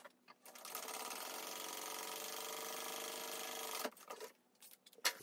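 A sewing machine runs a steady, continuous line of top stitching along the edge of a backpack, about a half inch in, whirring close and loud for several seconds before stopping, followed by a few brief handling clicks.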